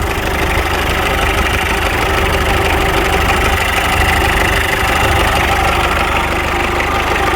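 A chopped Mitsubishi Pajero with a 4D56T turbo-diesel engine running with an insane-sounding airbox, a loud, close, continuous rumbling idle with a rough knocking clatter and vibration, no voices.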